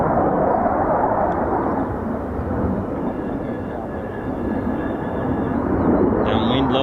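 An F-35B stealth fighter jet on a low approach at RAF Marham gives off a loud, steady, broad jet roar that swells slightly and holds, with some faint background sounds near the end.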